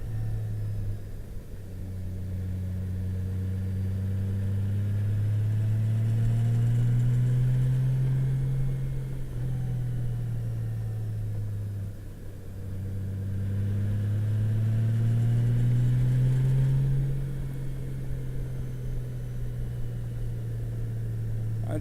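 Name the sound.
motorcycle riding on a winding road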